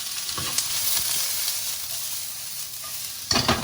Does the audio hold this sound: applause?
no